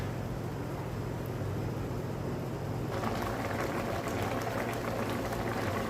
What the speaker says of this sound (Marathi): साखर वितळल्याच्या नंतर मध्यम गॅसवर शिजून घ्यायचं आहे 10 मिनिटाकरता.